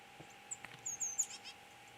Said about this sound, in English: hear the titmouse fussing, coming down for another drink